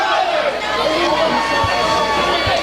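Crowd cheering and chattering for both roller derby teams at the end of a bout, a steady broad wash of voices filling the venue with a couple of low thumps near the end.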